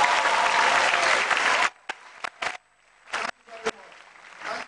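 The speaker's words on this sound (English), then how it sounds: "Professor Ambrosia, please help me applaud." An audience at a University of Benin inaugural lecture breaks into loud, dense applause for nearly two seconds, then it thins into a few scattered claps and short bursts with quiet gaps between them.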